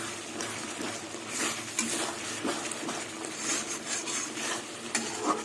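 Mung dal sautéed in a pan for a brief spell in preparation of mung dal with eggplant, giving a steady close sizzle with scraping stirs and soft utensil clinks throughout, no talk.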